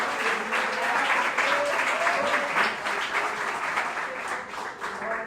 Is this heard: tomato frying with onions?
no